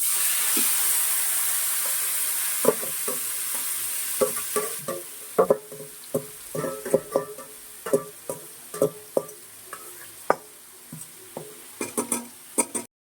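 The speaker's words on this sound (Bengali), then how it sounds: "দারচিনি লবঙ্গ, মাংসটা দিয়ে দিচ্ছি।" Mutton pieces with cinnamon and cloves hit hot oil in a pan with a loud initial hiss that settles into frying, while a spoon scrapes and clacks repeatedly against the pan up close.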